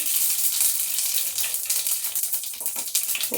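Whole cumin seeds sizzle in hot oil for a white pulao, a loud, close, steady hiss and crackle that runs without pause and with no talk.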